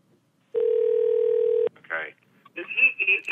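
A telephone line during a call to a cell phone: a flat sustained tone lasting about a second, then short bursts of line noise and garbled electronic sounds.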